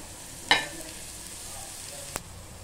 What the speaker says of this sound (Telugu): ఇదిగోనండి, ఉల్లిపాయలు వేగాయి.